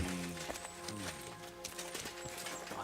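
Horse hooves clip-clop steadily in the medieval game Kingdom Come Deliverance 2, a quiet rhythmic trot under a continuous bed of game ambience and music.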